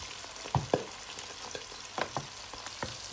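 Onions and curry leaves sautéing in oil for a crab curry, a low steady sizzle with a few sharp spatula knocks and scrapes against the pan, close but fairly quiet.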